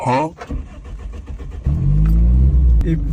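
A car engine cranks and catches, then settles into a steady, loud running idle close by. A voice is heard over the first moments.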